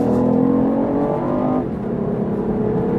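A BMW i8's small 1.5-litre engine revs and hums with a rising tone while accelerating uphill, then drops off abruptly into a lower, steadier drone.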